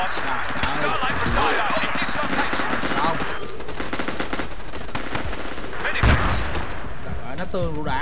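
Grenade blasts and gunfire crash through a 20-versus-20 Battlefield 2 town battle, dense rattling shots and a heavy thump near the end, while players talk over the din.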